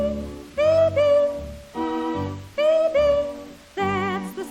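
A human voice imitates the chickadee's song, singing its clear two-note call in repeated phrases, close and fairly loud, with no other sound around it.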